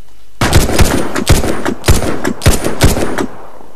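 Loud bursts of rapid gunfire in the video game Warface crack out in short, evenly spaced volleys, about five quick strings of shots close to the listener.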